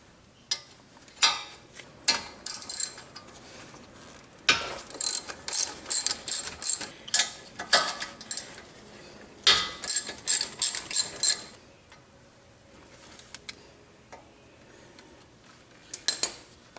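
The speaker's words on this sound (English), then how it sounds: "Then loosen the slide pins using a 7mm hex head or Allen head socket." A ratchet with a 7mm hex socket loosens the brake caliper slide pins on a Ford Focus. It gives bursts of rapid metallic clicking, loud and close, separated by short pauses and trailing off into a few last clicks.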